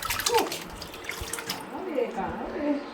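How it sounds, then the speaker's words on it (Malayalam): Hot water being poured, a steady liquid splash with bubbling texture running through the whole moment, close by and moderately loud with background chatter. "നല്ല ചൂടുവെള്ളം ഒഴിച്ച് കഴിക്കൊണ്ടിരിക്കുക കേട്ടോ"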